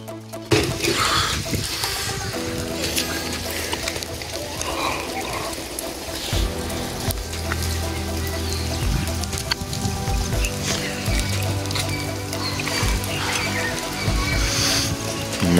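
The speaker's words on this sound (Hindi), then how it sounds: "बारिश वक्फे वक्फे ना शुरू हो रही" Steady rain patters and trickles across surfaces in a Pakistani village, a continuous close wash of drops with no talk.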